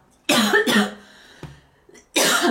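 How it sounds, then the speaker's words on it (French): Two harsh coughs in quick succession, close and loud, followed by a short pause, a faint throat sound, then another strong cough. "je ne fais que tousser aujourd'hui"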